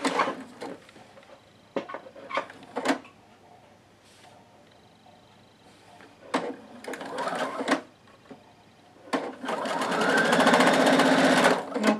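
A sewing machine stitches a quarter-inch seam while patchwork house blocks are pieced together. Scattered clicks and brief handling noises give way to a steady, close mechanical whirr of continuous stitching toward the end.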